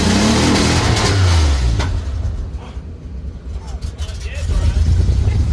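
A junkyard truck's engine revs loud and close as it pulls away, the roar dipping briefly mid-clip before swelling again, with people talking over it.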